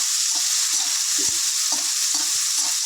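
Chopped ginger and garlic frying in oil for a gravy, a loud continuous sizzle close by with repeated soft stirring knocks and scrapes of the spoon against the pan.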